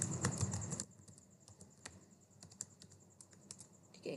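Someone presses the Enter key on a computer keyboard. The close but quiet key clicks come one after another in an uneven rhythm, with a brief burst of handling noise at the start.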